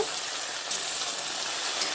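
Okra frying lightly with salt in a pan gives a steady, even crackling sizzle with a few faint stirring taps, close and moderately quiet, with no voices.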